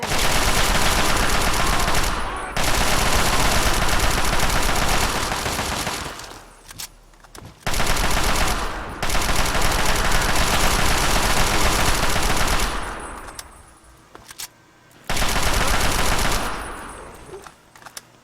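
Sustained automatic assault rifle fire from the Fallout 3 video game, loud, dense bursts lasting several seconds each, broken by short pauses, with two or three long volleys in a row.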